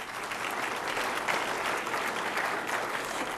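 An audience at a county-officials event breaks into sustained, even applause, a dense wash of many hands clapping with no pauses, fairly loud and close.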